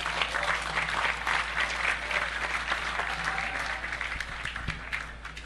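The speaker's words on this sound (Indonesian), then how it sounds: "Saya minta tepuk tangan untuk Ibu Lili Wahid." An audience at an evening Suluk Maleman gathering in Pati, Central Java, breaks into sustained applause for an honored guest, a dense, even roar of clapping from a large crowd.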